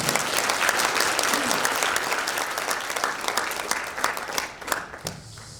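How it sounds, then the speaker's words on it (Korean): An indoor audience applauds warmly at a Christian federation's inauguration ceremony as the city mayor is invited to speak. The dense, steady clapping thins out and fades near the end, and faint voices can be heard under it. "네, 뜨거운 박수로 드리겠습니다."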